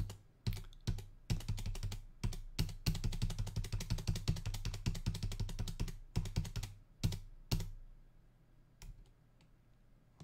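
Keys clatter on a computer keyboard in quick irregular bursts, including an alt-backspace undo, with short pauses between runs of clicks, close and fairly quiet while working on a drawer K-cup holder project.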